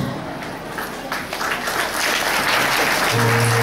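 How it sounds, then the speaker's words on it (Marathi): An audience applauds at a temple Navratri celebration, steady clapping that swells and holds, with a held musical tone entering near the end. "या सगळ्या टाळ्या त्या रोमॅन्टिक आजोबांना"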